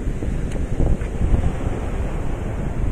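Sea waves wash in where a river meets the sea, with a steady roar of surf mixed with wind buffeting the microphone and no voices.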